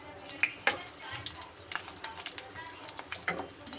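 Green chillies dropped into hot oil in a wok on a gas stove, a close sizzle with sharp spits and pops near the start, settling into a softer, uneven frying hiss, with some faint voice-like sound.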